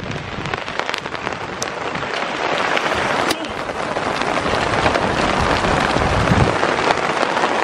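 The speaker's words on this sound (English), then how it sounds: "the rain's really starting to come down again now" Heavy rain pours steadily onto a sailboat on a run toward Georgetown, a dense, continuous patter that builds slightly in intensity over several seconds, with a few sharper drops striking close by.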